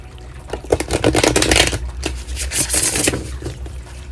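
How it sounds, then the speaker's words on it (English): Close riffle and slide of a tarot card deck being shuffled by hand, a Priestess of Light deck, with a dense flurry of papery flicks and rubs rising and falling over a few seconds. "shuffle the deck."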